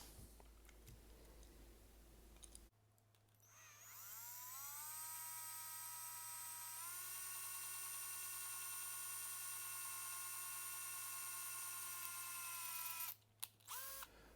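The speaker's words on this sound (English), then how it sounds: "step 1, drill out the rivets" A power drill whines steadily for about ten seconds as it bites through the metal rivets of a Hot Wheels Porsche toy car, its pitch rising as it spins up, then cuts off sharply.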